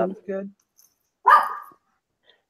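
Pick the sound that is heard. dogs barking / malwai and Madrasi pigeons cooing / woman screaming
dogs barking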